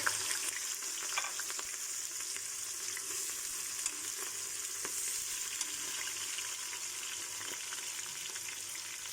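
Continuous crackling sizzle of onions frying in hot oil for degi aloo gosht, with occasional stirring scrapes, no voices.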